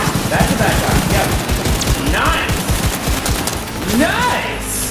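Steady gunfire in the video game Cyberpunk 2077, a dense rattle of shots running throughout with game effects over it, fairly loud and continuous.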